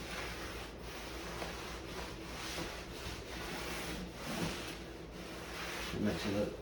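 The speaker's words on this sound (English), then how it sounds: "that foam roller really puts it on there strong too" A foam roller spreads stain over wooden window trim in repeated back-and-forth passes, a soft, steady, rhythmic rubbing close by with a faint voice briefly mixed in.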